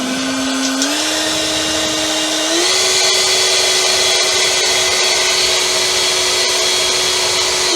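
An EGO battery leaf blower runs loud and close, a steady whining roar that steps up in pitch twice as it speeds up, then holds at full power.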